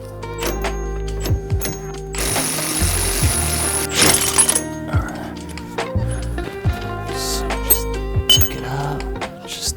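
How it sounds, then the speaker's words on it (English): A ratchet and tools working on the suspension bolts of a Dodge Durango, with clicking ratchet strokes, metallic clinks and a couple of louder grinding bursts, close by and loud in a garage. "After all that, I just take off these 3 bolts and it should just drop off, drop right off."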